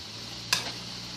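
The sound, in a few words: minced meat and vegetables simmering and reducing in a pan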